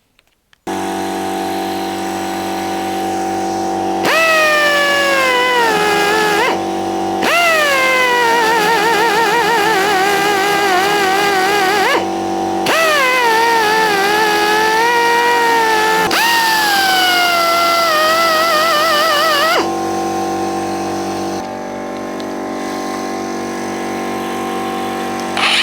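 An angle grinder takes rust back on the body of a 1965 Datsun Fairlady Roadster 1500. Its loud, whining tone comes in several bursts, dropping in pitch as it bites into the metal, with short pauses between passes and no talk.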